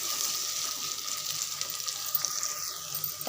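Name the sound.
tomato and onion sautéing in a pan for chicken curry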